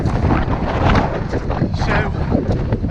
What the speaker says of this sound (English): Do apologise about the wind because I think it ain't gonna hold up.